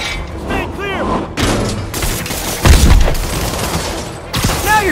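Gunfire and bursts of shots in a Spider-Man video game, mixed with booms, mechanical clatter and shouted voices throughout, with a heavier impact near the middle.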